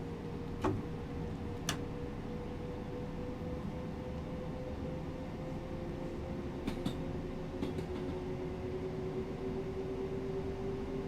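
Train Sim World 2 train accelerating on the East Coastway route between Brighton and Eastbourne, approaching London Road Station. A steady rumbling drive hum carries a slowly rising tone, with a few faint clicks over it and no talk.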